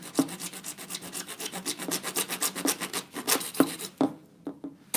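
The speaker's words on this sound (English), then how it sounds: "This is definitely the wrong saw for this." Hand saw cutting through PVC pipe, a quick rhythmic rasp of back-and-forth strokes, close and steady, with a pause and a couple of knocks near the end.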